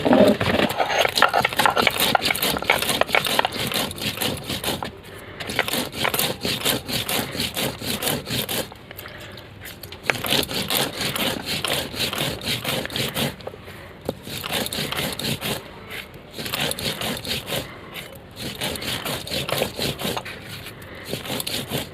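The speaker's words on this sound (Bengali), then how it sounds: "গোটা মশলাটা বেটে নেব।" Whole spices are ground by hand on a stone slab, a repeated rough rubbing and scraping in steady back-and-forth strokes with brief pauses, close and fairly loud, no talking.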